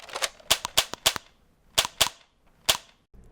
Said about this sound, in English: I added some plastic Foley sounds from a Nerf gun I recorded right before the shots start firing.